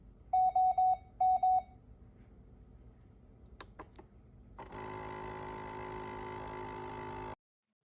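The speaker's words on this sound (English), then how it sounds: "when I go to turn that back off, the alarm is going to come back" A few sharp electronic beeps in two quick bursts, followed by a steady whirring hum that runs for several seconds before cutting off.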